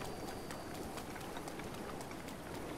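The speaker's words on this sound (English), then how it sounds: "It also rains here a lot." Rain falls in Breath of the Wild, a soft, steady patter of drops with fine ticking hits, faint and continuous with no speech over it.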